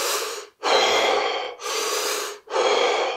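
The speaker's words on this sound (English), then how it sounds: "see if you might be holding your breath or, alternately, breathing really shallow" A person demonstrating breathing, with four loud, close, airy breaths in steady succession separated by short silent gaps and no talk.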